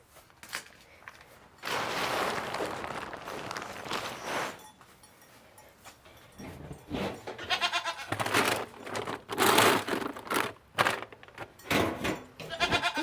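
Goats bleat on a farm amid hay bales and goat feed, with several loud, close calls and rustling handling noise between them.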